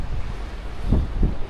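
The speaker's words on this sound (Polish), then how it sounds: "Trochę tu wieje." Wind gusting across a stony beach in Santa Cruz, Madeira, buffeting the microphone with steady low rumble and two stronger gusts near the end, with a faint sea wash underneath and no talking.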